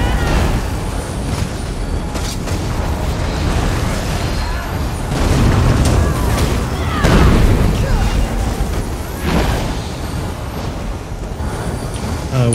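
A bomb goes off in a naval combat video game, with several heavy booms and rolling rumbles surging through continuous loud battle noise over the course of the passage.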